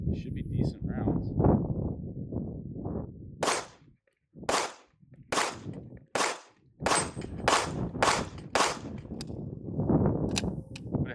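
Atlas Apollo V2 Perfect Zero pistol firing SMB 124-grain rounds, about eight sharp, loud shots in an uneven sequence, with someone talking just before and after the string.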